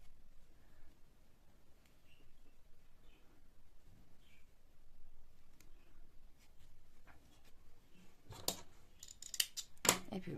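Scissors snip through yarn while puff flowers are being joined, a few sharp cuts clustered near the end over a low background hiss.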